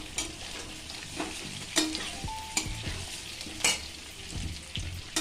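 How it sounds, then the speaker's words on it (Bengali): Potato and pointed gourd frying in oil in a wok, a steady close sizzle broken by several sharp scraping stirs of a spatula. "দেখুন আলু আর পটলটা আমি আরেকবার ভেজে নিচ্ছি"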